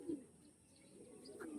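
Faint pigeon cooing, a low soft coo near the start and another toward the end, quiet and somewhat distant with no talk over it.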